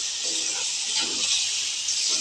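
Meat sizzles and hisses in a hot pan with spices, a steady, fairly close frying hiss with no voices.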